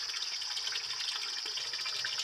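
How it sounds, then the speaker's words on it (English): Tap water runs from a half-inch farm pipe at low pressure, a steady, faint hissing flow that carries on alone without a break. "of course, the water is coming out of the pipe,"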